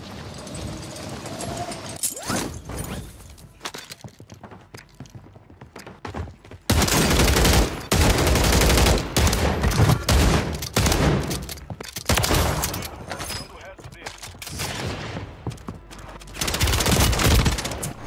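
Dense automatic gunfire in Call of Duty Warzone from a burst-type weapon, bursts loud and close, first sparse then sustained rapid volleys for long stretches with brief gaps.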